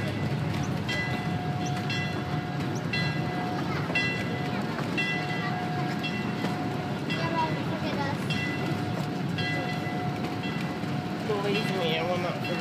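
A Calico and Odessa Railroad train ride at Calico Ghost Town, with a steady rolling rumble of the train and voices heard over it.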